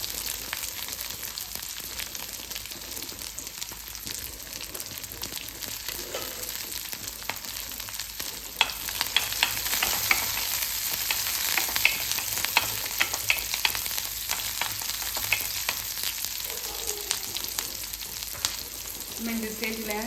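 Curry leaves, onion and green chilli frying in hot oil, a continuous bright sizzle with occasional stirring, steady and close throughout with no talking.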